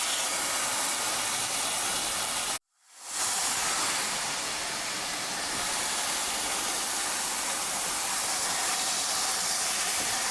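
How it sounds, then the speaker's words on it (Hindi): Chicken grills in a steel pan with onions, giving a loud, steady broadband hiss that cuts out briefly and then resumes and continues to the end, with no voices. "जिस पैन में हमने अपनी प्याज डाल की थी उसी में हम अपनी चिकन फ्राई करें।"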